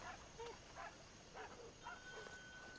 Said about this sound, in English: You're a good dog.